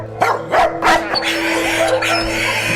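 A dog at an animal shelter barks a few short, loud yaps in the first second, then drops to quieter whimpering against a steady background hum.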